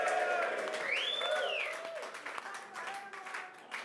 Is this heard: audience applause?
yes